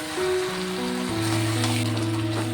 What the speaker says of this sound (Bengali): আলুটাকে দিয়েও আমি কিছুক্ষণ কষিয়ে নেব।